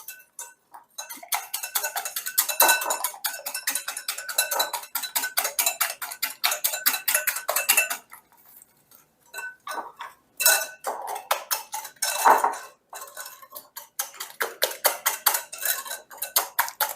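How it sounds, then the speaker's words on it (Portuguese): Eggs and sugar beaten by hand for sweet fried polvilho biscuit dough, a rapid steady clinking of utensil against bowl, close and continuous with a couple of brief pauses. "Aí eu acrescento o açúcar, vou batendo."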